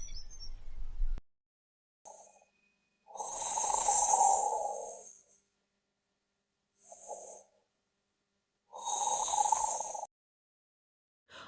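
Loud snoring in four long, rasping breaths separated by quiet pauses, with a couple of shorter snorts in between, close and alone.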